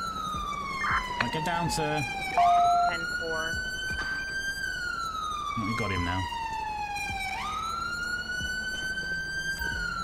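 A police car siren in a Grand Theft Auto police-patrol game blares continuously, rising and falling in long wails with brief yelp bursts, while someone talks over it.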